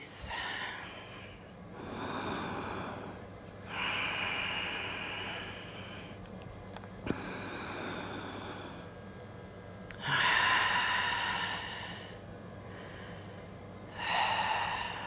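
Deep, slow breaths during a seated yoga twist, several long audible inhales and exhales rising and falling close to the microphone, with no talking.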